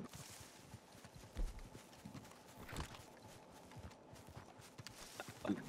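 Horse hooves clip-clop steadily in a video game, a continuous rhythmic clatter of footfalls over a dense, busy game soundscape, with no clear talk.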